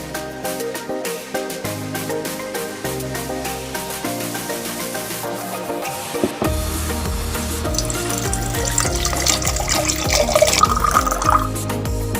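Water pours into a container, a rushing, splashing stream that begins about halfway through and grows fuller and louder, over a soft background of steady tones and light clinks.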